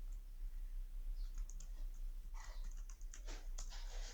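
Keys tapped on a computer keyboard while writing JavaScript code for a dropdown menu, quiet and close, with sparse clicks early and a denser burst of keystrokes in the second half over a low background hum.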